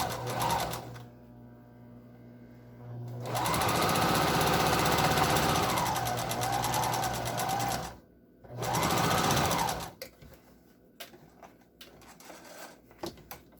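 Sewing machine stitching the top seam of a homemade N95 face mask, with a long steady run of rapid close stitching, a brief stop, a second short burst, then quieter handling clicks and rustles.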